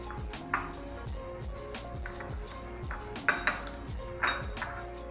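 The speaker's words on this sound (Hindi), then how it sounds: "इसको अच्छी तरह सारी चीज़ों को मिक्स कर लेना है" A spoon clinks and scrapes against a bowl while mixing butter, garlic and crushed red chilli, giving repeated metallic pings and light taps in a steady stirring rhythm, with no voices.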